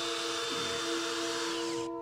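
A power drill drives a metal screw into plywood on a wall siding repair, a loud steady high whine that winds down and cuts off near the end.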